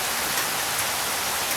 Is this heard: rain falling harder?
yes